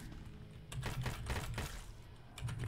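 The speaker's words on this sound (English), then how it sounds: "I'm just going to keep typing letters until it works" Quiet, quick clicks of computer-keyboard typing while playing The Typing of Isaac, arriving in dense bursts that run steadily across the clip with short pauses between runs.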